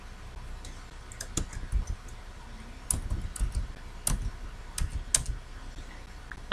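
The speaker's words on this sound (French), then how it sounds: "vous tapez votre nom de naissance" Someone types a name into a form on a computer keyboard, producing close, irregular key clicks in small bursts over a quiet room hum.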